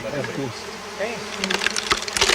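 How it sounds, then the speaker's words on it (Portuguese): Stingless Uruçu bees buzz around a freshly opened log hive, a continuous close insect hum with rising, busier buzzing and flight sounds toward the end. "E olha como fica fácil lidar com abelha sem ferrão"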